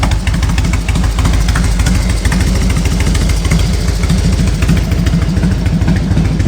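A 2000 Harley Davidson Road King idles steadily, its loud, close V-twin thumping in an even, lumpy rhythm with no voices over it.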